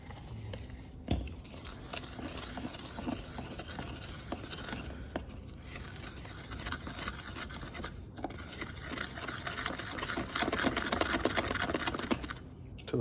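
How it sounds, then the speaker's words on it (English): A screwdriver stirs black powder in a container, giving faint, continuous gritty scraping and rubbing with a few sharper scratches, close by and quiet, without any talk. "we're gonna mix it with a screwdriver. And then literally you just mix it all up."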